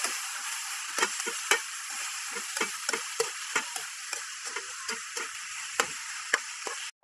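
Chicken pieces for adobo frying in a pan give a steady close sizzle, punctuated by frequent sharp clicks and taps of a utensil stirring the meat, with no talking.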